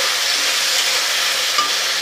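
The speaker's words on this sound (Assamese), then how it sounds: "এইখিনি অলপ সময় ভাজি ল'ম" Raw banana pieces fry in a pan over a medium flame, giving a steady, close, fairly loud hiss and crackle of hot oil, broken only by a faint clink or two, with no voices.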